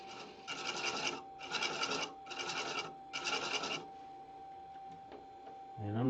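A lathe turns a recycled plastic box while threads are cut into it. Four rhythmic raspy cutting strokes ride over a thin, steady motor whine, then quieter running follows.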